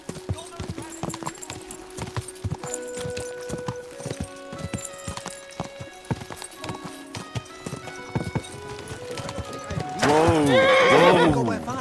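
A horse in the video game Kingdom Come Deliverance 2 clip-clops steadily along, then lets out a loud, close whinny near the end, with voices talking over the hoofbeats.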